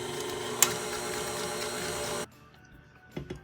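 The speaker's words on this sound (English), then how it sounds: "you wanna start out slow because it'll kick that almond flour out of the mixer if you're not careful" Stand mixer running slowly through almond flour cake batter, a steady close motorized whir that cuts off abruptly partway, followed by quieter clinks and handling noises.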